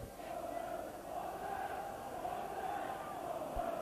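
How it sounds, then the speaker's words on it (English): Barnsley football fans cheering at a Blackburn Rovers match in 1990: a dense, steady crowd roar of chanting and shouting fills the stadium throughout. "the Barnsley fans at the Darwin end, is to my right hand side, as you can expect, exultant at that lead"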